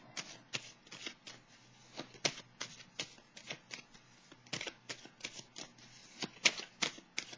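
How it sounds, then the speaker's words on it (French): Tarot cards are drawn and shuffled close up, with a quick series of crisp papery flicks and snaps in uneven bursts. No one speaks. "Je vais piger une autre carte pour déposer sur la carte de la patience."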